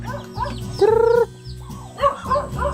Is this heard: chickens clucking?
yes